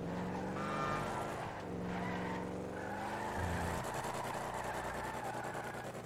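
A car drives along in GTA 5 with a steady engine hum that rises and shifts through gear changes, moderately quiet, with no voices.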